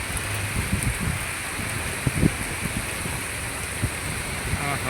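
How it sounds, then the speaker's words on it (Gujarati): Steady heavy rain hisses throughout, with scattered low rumbles and thuds that suggest distant thunder beneath the downpour. "હા, બહુ ભારે વાવાઝોડું છે."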